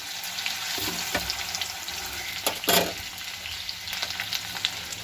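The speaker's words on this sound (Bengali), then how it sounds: "আর আলু আর সিমটা আমি ভাজা করবো।" Potatoes frying in a pan give a continuous close sizzle, broken by a few clattering stirs and scrapes.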